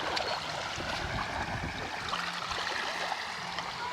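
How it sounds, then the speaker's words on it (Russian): Small waves lap softly and continuously along a bay shore on a calm, clear autumn day, a faint steady wash with light trickling water. "На заливе небольшая волна."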